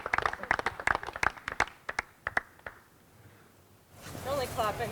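Scattered hand claps from a small outdoor gallery after a putt at a disc golf doubles event, a dozen or so sharp irregular claps that thin out and stop, followed by voices talking.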